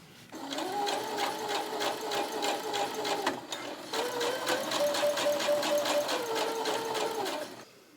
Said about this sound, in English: Let me run a basting stitch first and see how it looks.